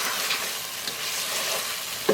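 Mutton ghee roast sizzling in a pan with cashews and chillies as it is stirred, a steady frying crackle with soft scraping strokes throughout and a brief clatter at the end.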